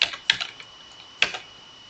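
A few crisp computer keyboard keystrokes sound close and sparse, tapped in small clusters with pauses between them while a formula is entered into an Excel spreadsheet.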